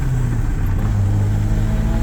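Škoda Octavia 1.5 engine pulling hard under acceleration, a loud, steady low rumble from inside the car with no talking.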